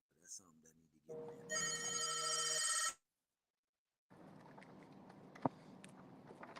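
A home landline telephone rings in a steady electronic burst from about one to three seconds, loud and close. A brief voice comes before it, and after a pause there is indoor rustling with a sharp click.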